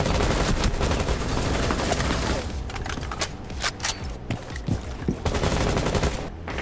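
Rapid automatic gunfire from the Rainbow Six Siege video game, with dense overlapping bursts of shots, close and loud, thinning into separate sharp cracks toward the middle before firing picks up again.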